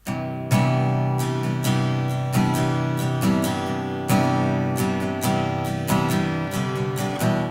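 Acoustic guitar captured with a KM84 condenser and a ribbon microphone blended together, strummed and picked in a steady rhythmic pattern with ringing chords, loud and close with no talking.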